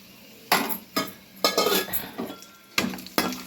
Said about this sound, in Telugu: కొంచెం పొయ్యి మీద బండి పెట్టుకొని ఆయిల్ వేసుకొని దాంట్లో పల్లీలు, తాలింపు గింజలు, ఎండుమిరపకాయ వేసేసా